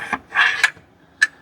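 A transfer punch scrapes back and forth across metal to scribe a line, giving a few short rasping strokes with a sharp tick at the end.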